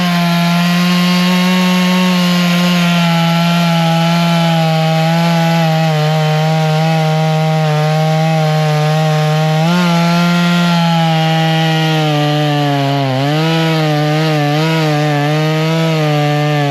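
A Woodmizer sawmill saws through a heavy pine beam, its blade holding a loud, steady whine with dense rasping texture that shifts pitch slightly near the end as the cut loads up, with no voices over it.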